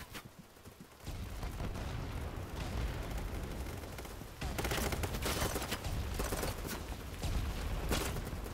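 Dense gunfire from BattleBit Remastered, a multiplayer shooter, with volleys and overlapping shots rolling continuously and growing louder partway through, with no voices.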